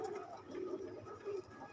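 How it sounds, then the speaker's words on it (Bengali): A Jalali pigeon cooing indoors near its mate, a few soft rolling coos repeated over a couple of seconds, quiet and close. "আমার সামনে একটা কবুতর দেখতে পাচ্ছেন। ও এইমাত্রই ঘরের মধ্যে ঢুকলো। এটা জালালি কবুতর।"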